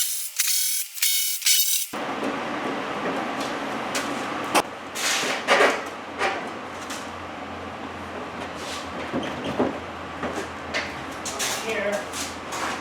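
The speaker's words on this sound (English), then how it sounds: "I'm gonna take those 4 bolts out." Ratchet clicking as bolts are removed from a Chevrolet HHR headlight during a headlight replacement, with repeated bursts of close ratcheting over background noise and faint talk.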